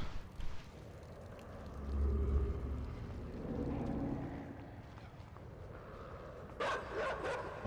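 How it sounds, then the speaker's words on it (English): Dogs bark in the side-scrolling game Inside. A few distant, muffled yelps sit over a low ambient rumble, with sharper bursts near the end. "Dogs."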